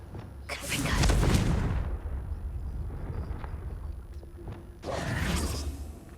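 A Confringo fire spell cast in Hogwarts Legacy gives two loud whooshing fiery bursts with a crackling rumble between them, close and prominent.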